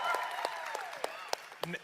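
A lecture audience applauds at the speaker's request, with scattered sharp claps rising over a continuous voice talking throughout.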